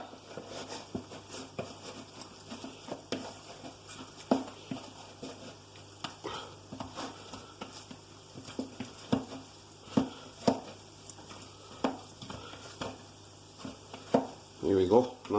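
Oiled pizza dough for a homemade chicken pizza is folded over and over in a bowl, giving soft, sticky slaps and squelches in an irregular rhythm, close and fairly quiet.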